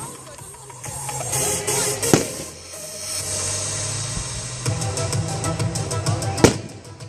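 Fireworks burst at a Great Yarmouth display, with rumbling booms and a rapid string of crackling pops amid crowd noise and faint voices.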